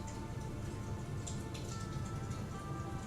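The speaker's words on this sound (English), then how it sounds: "I have like a fireplace going on the TV, so you're probably hearing that in the background" Steady soft crackle and patter from a fireplace playing on a TV, a continuous even hiss with faint scattered pops, heard low in the background.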